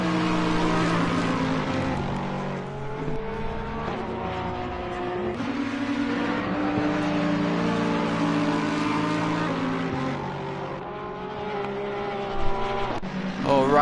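Racing cars including a Lexus, an Audi and Ferraris lap Donington Park circuit, their engines a continuous loud droning whine with shifting pitch as they pass, under steady commentary talk.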